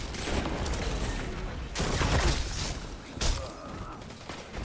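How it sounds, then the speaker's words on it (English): Shotgun blasts and heavy impacts from a competitive online video game, two or three loud booming bursts over a dense, noisy game mix, with no talking. "I shotgunned him."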